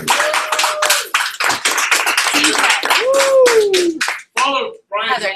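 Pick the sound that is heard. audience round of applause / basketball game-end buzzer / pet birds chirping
audience round of applause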